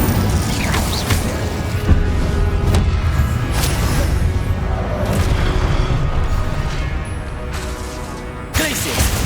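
An Incendio fire spell bursts in Hogwarts Legacy gameplay amid a busy battle, with repeated whooshing blasts, booms and crashing impacts layered over loud, dense combat effects.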